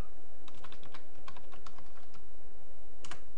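A computer keyboard clatters with a quick run of keystrokes as an administrator username is typed on a Windows XP or Vista login screen, followed by a short pause and a final pair of taps.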